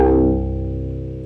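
One loud layered dubstep synth hit, a deep bass downbeat with a brighter offbeat pluck on top, fading with a slight warble; no voices.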